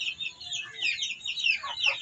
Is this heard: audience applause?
no